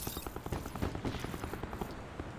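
Rapid automatic gunfire in the video game Call of Duty Black Ops, a dense stream of sharp shots rattling steadily throughout.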